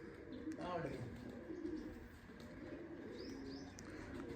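Soft pigeon coos murmur in the background amid a busy ambient hum, with occasional faint chirps and a voice nearby.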